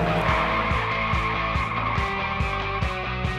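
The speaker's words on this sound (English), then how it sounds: "Can you hear the exhaust?" An Abarth sports car engine roars steadily with rhythmic pulsing exhaust bursts, loud and close, as if riding inside during hard driving on a track.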